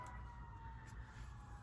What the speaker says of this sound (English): Oh, we have sirens.